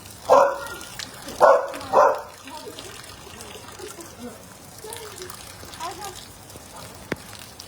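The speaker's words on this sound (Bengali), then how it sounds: "একটা ডগি এসছে আমাদের সাথে।" A dog gives three loud, close barks in quick succession early on, then the scene settles into a quiet background of trickling water and faint voices during rainy weather.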